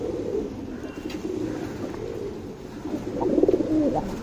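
A tournament pigeon coos softly among other birds, low throaty rolling calls that grow a little louder near the end, heard against a steady background murmur with no talk.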